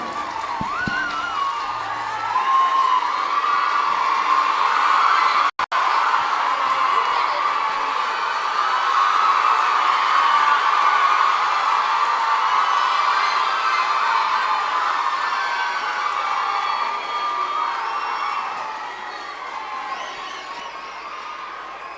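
At a memorial day function for the Marudhu brothers, a hall audience applauds and cheers the chief guest in a sustained, dense roar of clapping and shouts that gradually fades.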